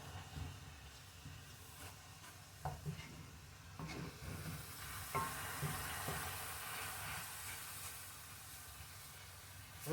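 Onions frying in olive oil in a skillet, a steady low sizzle and hiss with scattered crackles and soft stirring knocks, continuous throughout and fairly quiet, with no talking.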